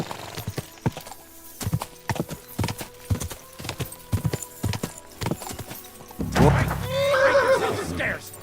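Horse hooves clip-clopping in a steady gait in Kingdom Come Deliverance 2, a run of sharp close hoofbeats followed by a loud, drawn-out neigh near the end.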